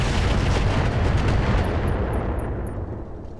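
Mech weapons fire in Roguetech, the BattleTech mod, as a Treadnought lets loose everything but its barrage; a loud, dense, rumbling volley fills the moment and tails off with a few sharp high pings.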